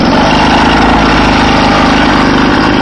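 A homemade moped powered by a small weed-whacker engine runs loud and close, holding a steady buzzing drone throughout with no voices.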